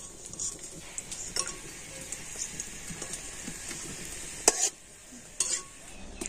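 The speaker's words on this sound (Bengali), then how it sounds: "তো কাজু আর কিশমিশটা একটু ভেজে নিচ্ছি।" Cashews and raisins frying lightly in ghee, a soft continuous crackling sizzle with occasional sharper pops and utensil clicks, fairly faint, no talking.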